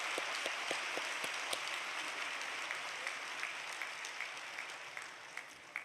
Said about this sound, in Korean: 우리 그분들을 위해서도 박수 한번 치겠습니다.